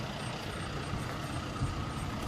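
A 2018 John Deere 5075E tractor's 3-cylinder turbo diesel engine idles in a steady, low, moderately quiet rumble, with no speech.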